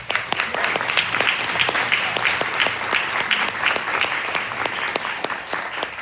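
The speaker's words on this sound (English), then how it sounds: "So I would like to give her an applause." Sustained applause from an audience at a talk honouring a translator, dense steady clapping at even loudness throughout with no voices over it.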